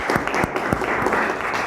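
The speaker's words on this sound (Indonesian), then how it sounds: "tepuk tangan untuk Mbak Nabila." Applause from a lecture audience of university students, a steady dense patter of many hands clapping together, sustained and fairly close throughout with no talk over it.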